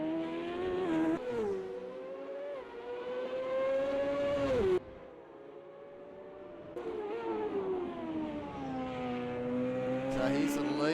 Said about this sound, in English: Can't get enough of that sound of these cars.